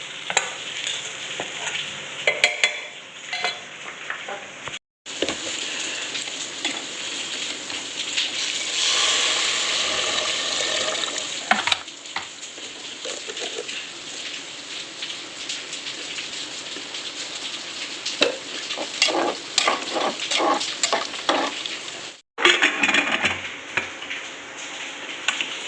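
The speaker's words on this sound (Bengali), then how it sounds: "কষিয়ে দিলাম, লাস্টে ঘি দিয়ে নামিয়ে দেবো।" Spices sauté in a kadai with a continuous crackling sizzle and frequent spatula scrapes and clinks, close and busy, briefly cutting out twice.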